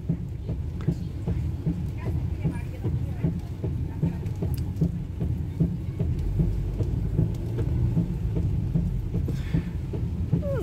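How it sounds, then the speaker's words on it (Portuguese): Rain falling on the town streets of Rolândia, Paraná, a steady patter with many sharp drips and splashes close by over a low rumbling background. "está chovendo"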